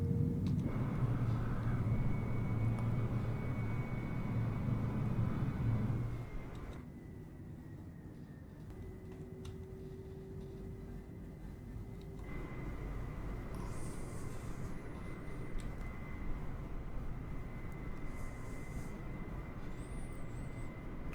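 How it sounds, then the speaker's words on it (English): Simulated Air China Boeing 767-400 using reverse thrust on landing in Microsoft Flight Simulator: a loud, steady engine roar and rumble, easing after a few seconds to a quieter, sustained whine and hum. "So I will use a reverse thrust."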